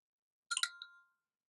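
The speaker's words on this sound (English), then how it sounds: "And that was my phone, not yours." A single short mobile phone notification chime rings out with a bright, clear ding and a brief second tone, fading quickly into silence with no talk over it.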